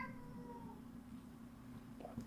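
A cat in a played video gives a faint, drawn-out meow at the start, followed by a short second call near the end, quiet and distant, with no talk.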